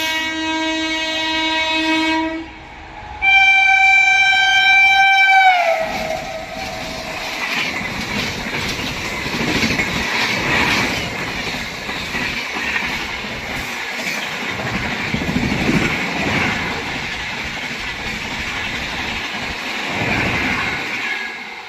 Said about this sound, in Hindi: आगे डिब्रूगढ़ राजधानी एक्सप्रेस।